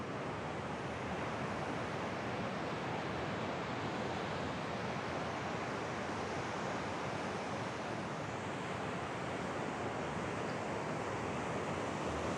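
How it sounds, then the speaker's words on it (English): Steady, continuous roar of ocean surf on a wide beach at Jaco at low tide, a dense wash of breaking waves with no voices and no clear gaps. "But this is a massive beach, especially at low tide."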